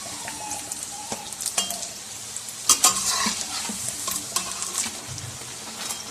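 Keema and potato samosas frying in oil in a kadai, a steady sizzle with scraping stirs and metallic clinks of a utensil against the pan, close and lively.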